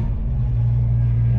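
A low, steady engine idle from a 1963 Ford Falcon Futura rumbles continuously up close, a deep even drone with no talking over it.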